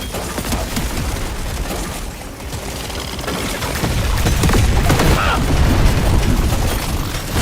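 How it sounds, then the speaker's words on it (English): Dense, continuous barrage of game explosions and popping blasts in Deep Rock Galactic Survivor, loud and overlapping, swelling heavier in the second half with a faint voice beneath. "Man, those explosions."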